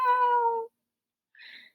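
A violin bow slides downward across the strings in a whining, yowling cry imitating a cat, followed after a short silence by a brief, higher scratchy squeal.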